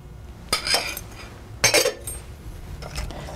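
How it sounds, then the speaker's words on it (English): A spatula scrapes sugar from the bottom of a mixing bowl while making almond praline flan, giving two distinct clinking scrapes close by in an otherwise quiet kitchen. "I wanna just scrape this bowl because it's usually some sugar in the bottom of the bowl"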